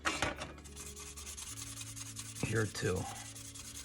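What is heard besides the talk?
sanding a scale model car body panel line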